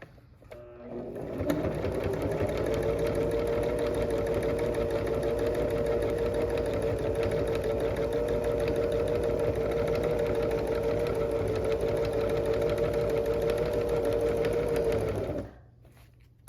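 A sewing machine runs steadily and loudly for about 14 seconds, free-motion quilting scalloped stitching, starting up and stopping cleanly with no talk over it.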